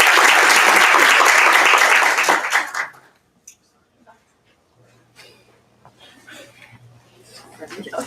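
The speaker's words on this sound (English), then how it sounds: "Let's clap for Vanessa." Audience applause at a women's sports team signing day, a loud burst of clapping for about three seconds that quickly dies away into near quiet with faint room noise.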